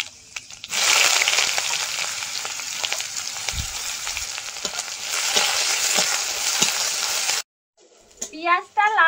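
Onion and green chili frying in hot oil with five-spice (panch phoron): a loud, close, steady sizzle for several seconds that cuts off abruptly, followed by a brief faint voice.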